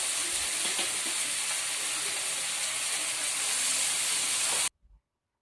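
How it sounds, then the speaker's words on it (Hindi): Cut raw banana pieces fry in oil with browned onions, giving a steady loud hiss and sizzle with faint stirring clinks, close to the pan, before cutting off abruptly. "अब इसमें कटे हुए कच्चे केले डालें और इसको अच्छे तरीके से तेल में इसको मिक्स करें और इसको भूनें।"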